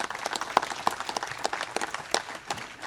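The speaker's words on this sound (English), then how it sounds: "So if we can give a round of applause for that," A monument dedication audience claps for the committee, steady scattered applause at moderate distance, with individual sharp claps standing out from the patter.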